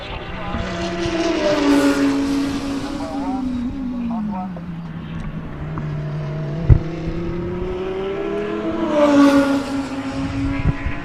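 A GT race car in a South African GT series race circles the track, its engine note rising then falling as it sweeps past and later climbs again, loud and continuous with a brief thump in the middle.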